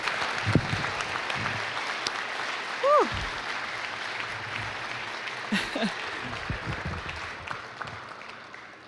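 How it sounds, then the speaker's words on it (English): A crowd applauds at a Women's History Month celebration in a high school, with sustained, moderately loud clapping, a cheer and a voice rising above the clatter. "Can we get another round of applause?"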